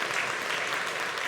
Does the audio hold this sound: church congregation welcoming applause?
yes